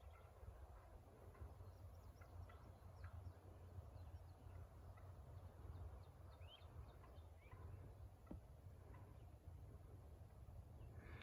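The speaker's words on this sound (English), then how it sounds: "that hen's up in there putting and walking around" Soft, scattered turkey hen clucks and putts rise now and then over a steady outdoor hum in Pennsylvania woods, faint and some distance away.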